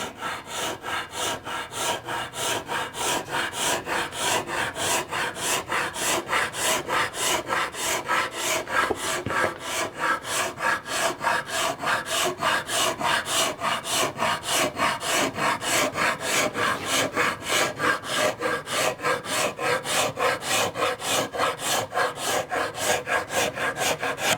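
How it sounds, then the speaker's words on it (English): Steady, rhythmic rasping strokes of a scraper dragged across a wooden picture frame for an oil painting, close and continuous with even back-and-forth repetition and no talking. "I'll be scraping this"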